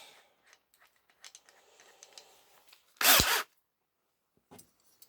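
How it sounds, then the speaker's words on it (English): A small drill with a 3 mm bit bores out rivet posts on a Matchbox Super Kings articulated tanker model, a short, loud whirring burst amid quiet handling clicks and rustles. "And we'll gently just drill these out."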